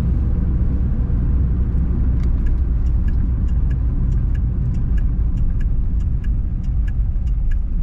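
A 1957 Ford Fairlane 500 Club Sedan drives along dry roads. Its engine gives a loud, steady low rumble from inside the car, with light rattles and clicks ticking over the drone as it gathers speed.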